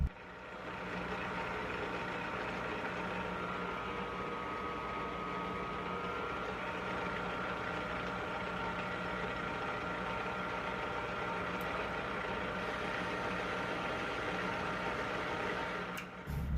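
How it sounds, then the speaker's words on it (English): Steady mechanical hum and whir of a lathe single-point threading a Marlin rifle barrel, a continuous drone with faint tonal whine and occasional small ticks, ending abruptly. "we're doing some single point cutting"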